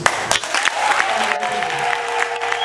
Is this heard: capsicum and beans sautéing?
no